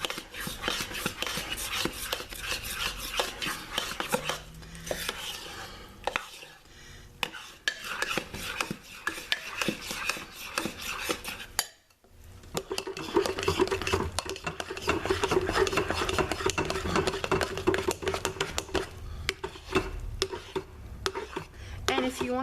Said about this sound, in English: And I'm stirring in the color.